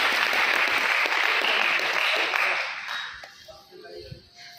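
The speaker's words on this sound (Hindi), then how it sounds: "बच्चे तालियों के द्वारा वेलकम करें" Students in a college seminar hall applaud to welcome a guest, a dense, steady wash of clapping that holds strong for about three seconds and then thins and fades, with faint voices beneath.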